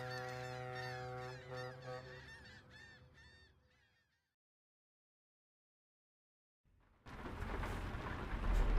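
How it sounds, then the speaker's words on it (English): Heavy rain and a deep thunder rumble in Euro Truck Simulator 2 burst in loudly after a stretch of honking birds and a few seconds of silence, with no talk over them. "And the rain is back."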